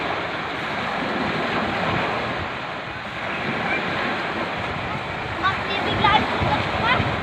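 Sea waves wash continuously onto a beach, a broad, close rushing surf mixed with gusty wind buffeting the microphone, with voices faintly present in the background.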